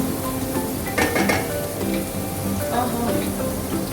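Onion paste sizzles and fries in a pan for chilli garlic prawn sambal, with a steady hiss broken by a few louder bursts as it is stirred, with soft utensil scrapes.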